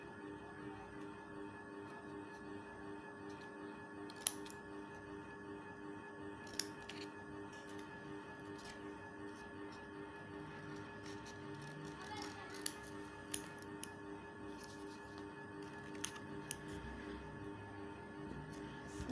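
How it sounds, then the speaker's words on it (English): Occasional soft snips of scissors cutting thin matchbox cardboard, scattered clicks over a faint steady background hum. "Let's cut this part with the scissors."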